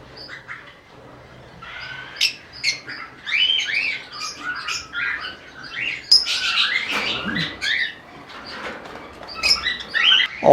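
Lovebirds, including blue Personata, chirp and squawk in a breeding cage, a dense run of sharp, overlapping calls, fairly close, rising and falling with no talk.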